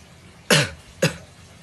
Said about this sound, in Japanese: なんかやっぱ咳込むな。